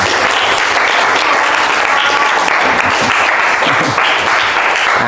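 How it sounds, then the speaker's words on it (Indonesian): A classroom group of teachers or students claps for the first group about to present, a dense, loud, steady round of applause from many hands filling the whole stretch. "Beri tepuk tangan untuk kelompok 1 ya."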